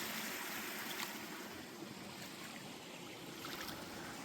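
A forest stream on a Sabarimala trekking trail flows with a steady, broad rushing wash of water. The sound is continuous and fairly soft, with no voices.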